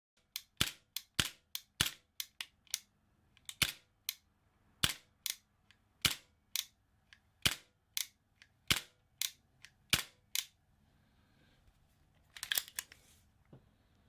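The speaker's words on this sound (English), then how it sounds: "every single time I pulled the trigger, the Bellum fired extremely weak" A Secutor Bellum CO2 gas blowback airsoft pistol fires weakly: about sixteen crisp, snappy shots close by, spaced unevenly at roughly half-second to one-second gaps, then a brief soft clatter near the end.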